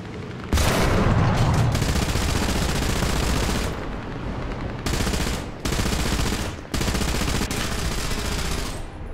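An anti-aircraft gun fires in War Thunder in long, loud, rapid bursts of automatic fire close by, separated by short pauses, with a heavy boom at the start.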